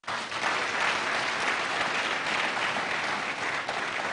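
Dense, sustained applause from a large conference audience during an e-learning week event, steady and loud throughout with no pauses.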